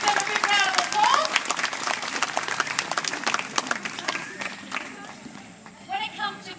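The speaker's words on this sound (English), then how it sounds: "So please give them a big round of applause." Audience at a wildlife sanctuary bird show breaking into a big round of applause, dense clapping from a crowd that tapers off over several seconds, with voices chattering through it.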